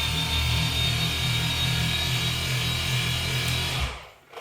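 An XFE cordless polisher buffs polish on a car's paintwork, giving a steady close mechanical whir with a low rumbling hum that runs evenly, then winds down and stops near the end.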